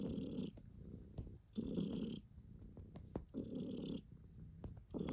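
A sleeping cat purring close by, in slow rhythmic cycles of a low rumbling buzz, roughly three breaths over a few seconds, with no talking.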